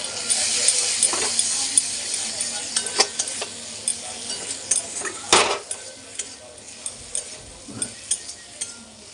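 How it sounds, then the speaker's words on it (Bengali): Ground spices with turmeric, cumin and coriander powder being sautéed in oil in a pan while cooking pointed gourd with prawns, steady sizzling under repeated scraping and stirring clinks of a spatula against the pan, close and moderately loud. "এবার আমি মশলাটা কষিয়ে নেব।"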